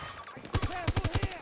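Rapid gunfire from an RM-68 rifle in the Battlefield 2042 video game, a quick rhythmic burst of about eight sharp, close shots after a short quiet lead-in, with a voice calling out in the game.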